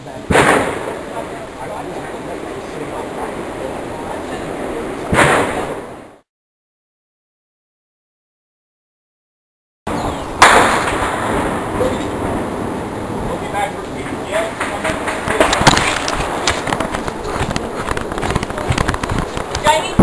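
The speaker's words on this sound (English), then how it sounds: "it sounds so extreme and chaotic out there. Machine guns, explosions." Rapid bursts of machine-gun fire and booming explosions crackle nearby amid noisy commotion, with a silent gap in the middle before the chaotic firing resumes, voices mixed in.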